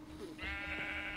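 Sheep in Minecraft give a single close, loud bleat, a wavering nasal call that rises and holds for about a second with no one talking.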